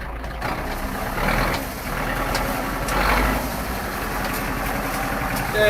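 A Zetor 7211 tractor drives across a damp field, its diesel engine a steady low rumble that swells and eases slightly as it moves, heard alone without talk.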